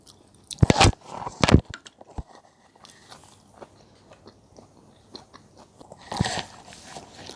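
Meatballs from a pork, chicken and mushroom suki hot pot are bitten and chewed close up, a few crisp squishy bursts followed by quieter intermittent mouth sounds and another chewing spell near the end.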